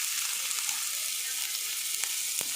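Onion, garlic and mustard seeds sauté in hot oil in a kadai, making a steady close sizzle and hiss with a few faint clicks of stirring.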